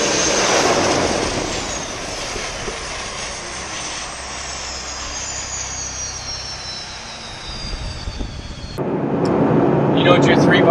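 Pilatus PC-12 turboprop engine running on the ground, a loud continuous roar with a slowly falling whine, dipping briefly near the end before surging back up.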